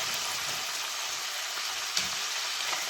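Garlic and onions frying in a pan for a lamb stew with pearl onions, a dense steady sizzle with faint stirring clicks.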